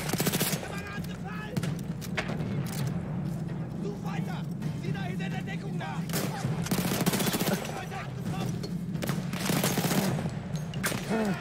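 Gunfire rattles through a Battlefield 1 battle, with rapid bursts and scattered shots from several weapons repeating throughout and a voice talking over the fighting.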